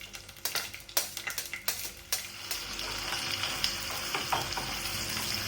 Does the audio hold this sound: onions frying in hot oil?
yes